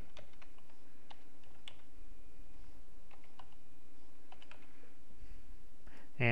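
Typing on a computer keyboard to enter an FRN number at a login page, a steady run of light, irregular key clicks close by with short pauses, no talking.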